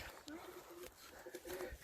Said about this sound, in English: Lots of pigeons in here, right? They're flapping around to get you interested, right?